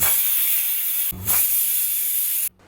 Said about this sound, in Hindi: अब इन चनों को हमें प्रेशर कुक कर लेना है कम से कम 4 सीटी के